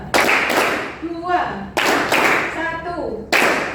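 A classroom of students claps together at a vocational school coding and artificial intelligence lesson, three sharp bursts of clapping, each fading into a short tail with a voice ringing briefly in between.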